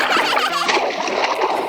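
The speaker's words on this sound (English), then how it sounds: "Splash! The hand sprays water to clean the cars." Water sprays onto toy cars to wash them, a loud, close hissing splash with bursts of spatter running continuously through the short moment.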